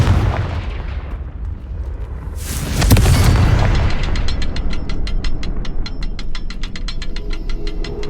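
A Confringo spell in the video game Hogwarts Legacy bursts into a loud, booming explosion after a quiet rumble, followed by a fast run of sharp crackling pops and ticks that keeps going to the end.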